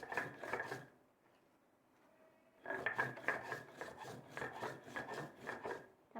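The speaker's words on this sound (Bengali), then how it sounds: "প্রথমে মরিচটা লবণটা দিয়ে এভাবে বেটে নেবেন।" Chili and salt are ground by hand on a stone with a rhythmic rasping scrape, close and repeated in strokes, with a short pause before the grinding resumes more steadily.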